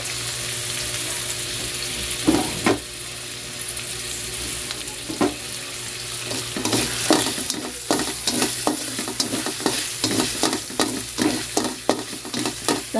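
Garlic sizzles in a frying pan in a home kitchen, a constant hiss broken by a series of sharp scraping stirs that grow more frequent toward the end.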